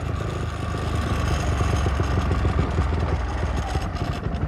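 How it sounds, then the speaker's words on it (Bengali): A motorcycle engine idles at a riverside vessel ferry ghat in Patharpratima, with a steady, even rumble that holds close and loud throughout, without any rise in revs. "এইখানে বাইকটা দাঁড় করবো"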